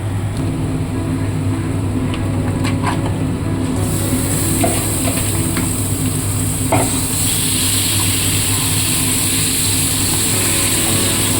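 Marinated chicken dropped into a hot wok (kadai) of reddened onions and green chillies for a chicken curry, with a steady hiss of frying that swells brighter partway through and some stirring scrapes, close and continuous with no talk.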